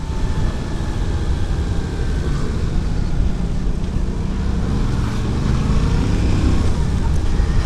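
A Yamaha Tracer 700 motorcycle ridden off-road, its engine a steady, loud drone with heavy rumble and wind buffeting throughout, no one speaking.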